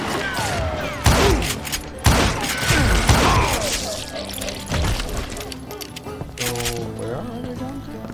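Gunfire rings out in the Western shooter Call of Juarez: Gunslinger, several loud, sharp shots spaced about a second apart amid ricochets and game effects, with someone talking over them.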